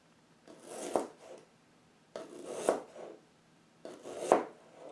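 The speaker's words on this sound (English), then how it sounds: "Ginger root is chewy, so I need to cut it very" Ginger root being finely chopped with a knife in three short bursts of rapid cuts, each separated by a pause, close and moderately loud.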